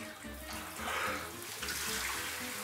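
Cold shower water pouring and splashing steadily, a continuous broadband rush of running water close by with no talking.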